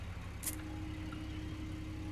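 A tractor engine in Farming Simulator 15 drones low and steady, with a constant idling rumble and a brief higher hiss partway through.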